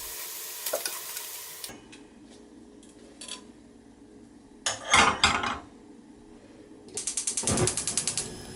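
Slices of Spam pan-fried in a dry pan without oil, heard as bursts of sizzling and spatula scraping between quieter gaps, with a few clicking mechanical sounds; no talking.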